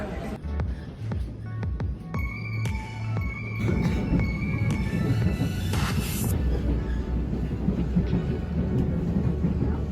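A train in Spain's Basque Country rumbles past with rhythmic clacking and a brief squealing tone, loud and close, then settles into a steady roar.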